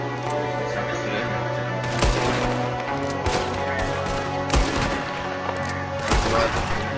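Pistol gunshots in the Red Dead Redemption video game, several sharp reports spaced a second or more apart over a steady game background with a low hum and bursts of wider noise.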